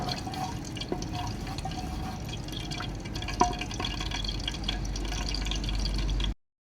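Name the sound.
cinnamon, black cardamom and mace lightly frying in pan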